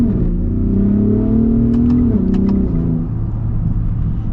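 A 2023 Ford F-150 Raptor with EcoBoost engine pulls hard at partial throttle, a loud, steady engine drone climbing in pitch, dipping briefly at a gear change, then continuing strongly.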